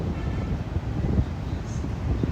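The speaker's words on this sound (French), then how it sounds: "Je pensais pas qu'il y aurait autant de vent." Strong seaside wind at Mirissa, Sri Lanka, buffets the microphone in a steady low rumble with uneven gusty thumps, loud and continuous.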